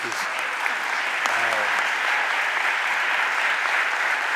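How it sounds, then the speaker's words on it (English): Audience applause at a city council budget hearing, a continuous, even roar of clapping across the room, with a voice briefly audible under it near the start. "Give me a round of applause, y'all, right?"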